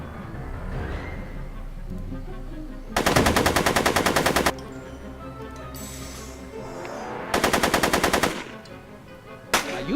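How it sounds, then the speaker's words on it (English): Rapid automatic gunfire in the Telltale Back to the Future video game, two long loud bursts of a second or more each and a brief final burst, over a low game soundscape with no talking. "Are you shooting at me?"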